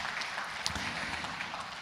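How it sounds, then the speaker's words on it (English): Faint, steady applause from an audience at an African Union MSME forum opening ceremony, a dense, even patter of many hands heard from a distance, with no voices over it. "I think he deserves a round of applause."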